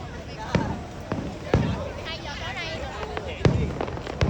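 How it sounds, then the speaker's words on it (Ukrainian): Distant New Year's fireworks in Vietnam pop and crack at irregular intervals under a murmuring crowd and nearby chatter. "О, вже салюти пішли."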